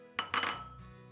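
Dry soybeans tumble into a glass bowl with a short burst of bright clinking and rattling, quick and close, then a fading ring.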